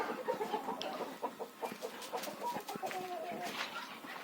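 Bantam hens and a rooster cluck and chatter in a poultry yard, a busy overlapping stream of short clucks at moderate distance, with a faint voice now and then.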